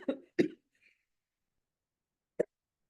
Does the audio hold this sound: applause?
no